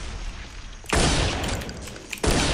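A grenade blast in the video game Counter-Strike: Condition Zero Deleted Scenes hits as a sudden loud roaring burst that rumbles on, followed by a second sharp burst near the end.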